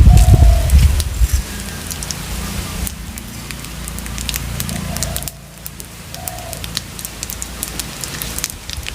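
Whole cumin seeds and dried red chillies sizzle in hot oil, opening with a brief low thud before a steady crackling hiss; pigeons coo intermittently in the background.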